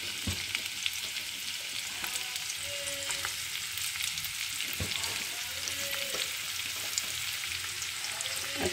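Chopped onions fry in hot mustard oil, giving a steady, close hissing sizzle with occasional stirring clicks and no talking.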